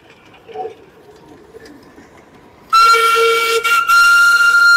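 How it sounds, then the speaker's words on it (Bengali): A Darjeeling toy train runs nearby on its mountain line, arriving loudly after a quiet, distant start with a sustained whistle-like tone and rumbling wheels. "তিনখানা টয় ট্রেন দেখলাম আজকে"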